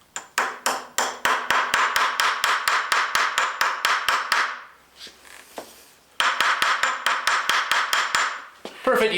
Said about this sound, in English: The perfect hammer for this.